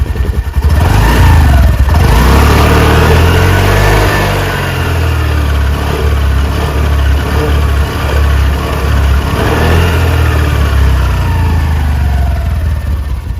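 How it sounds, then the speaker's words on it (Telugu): A Honda Activa 6G scooter running close by, with a loud, steady exhaust hum that revs up and eases back down in a few gentle swells. "ఇప్పుడు మీరు ఎగ్జాస్ట్ సౌండ్ అయితే ఈ స్కూటీది వినండి"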